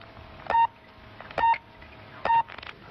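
Three short, evenly spaced keypad tones from a telephone dialing the Paris speaking clock service, each a crisp beep about a second apart, heard alone over a faint background hiss.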